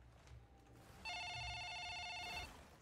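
A telephone rings loudly in a film scene, a bright electronic trill repeating rapidly for about a second and a half after a quiet stretch with a faint tone, standing alone without talk.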